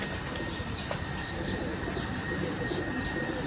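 Ferozpuri pigeons coo softly at a rooftop loft on a one-storey house, faint repeated calls over a steady hiss of background noise, with a thin high tone running through.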